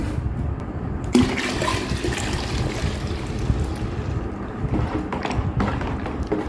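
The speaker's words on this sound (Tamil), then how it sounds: "நான் கொஞ்சம் தண்ணி ஊற்றிடலாம்" Water is poured into a container at home, a loud continuous gushing and splashing close by with a few sharper sloshes, and no talk.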